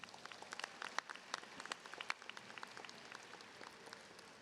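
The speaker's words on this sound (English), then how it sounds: "Give yourselves a round of applause." A graduation audience at a high school ceremony gives a quiet, distant round of applause, scattered claps popping through a soft, continuous patter.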